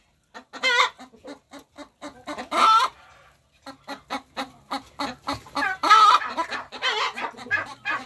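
A hen squawks and clucks loudly and close, in rapid repeated bursts with a brief pause partway through.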